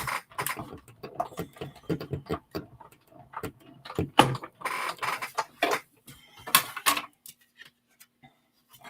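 Paper cranked through a card-making embossing machine, a run of irregular ratcheting clicks and crisp taps, close and moderately loud, with short pauses between bursts.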